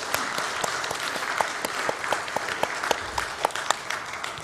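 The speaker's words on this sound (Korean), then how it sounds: "서로에게 박수 한번 할까요?" A church congregation at a Korean church leaders' retreat applauds one another, a sparse ripple of claps with distinct individual hand strikes standing out, moderately close, without talk.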